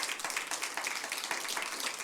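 A church congregation applauds during a sermon, a short burst of dense, fairly quiet clapping from many hands.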